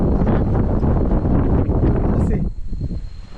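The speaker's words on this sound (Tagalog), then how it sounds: "Kasi, alas yung hangin eh." Heavy wind buffets the microphone in a loud, continuous roar on a mountain, Mt. Marami, easing off toward the end.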